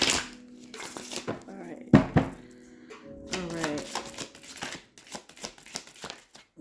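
Slippery tarot cards are shuffled and riffled by hand at close range in irregular bursts of slapping and flicking, while a voice speaks intermittently in between.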